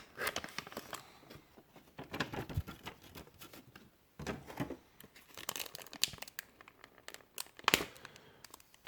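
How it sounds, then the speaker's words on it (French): Trading card booster packs are torn open up close, with crinkling foil and sharp ripping sounds coming in uneven bursts at a soft, intimate level. "donc on a 6 boosters à ouvrir"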